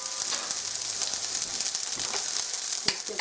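Onions frying in a hot cast iron pan for fried cabbage, a steady close crackling sizzle with small pops and a faint scrape near the end, no voices.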